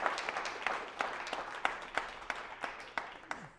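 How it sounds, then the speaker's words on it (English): Scattered applause at a church annual meeting, a thinning round of individual claps in an uneven rhythm, moderately close and without speech. "A round of applause"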